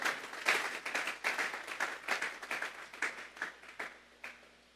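A church congregation claps together for God in an evangelical service, a dense burst of applause that thins into scattered, fading claps near its end.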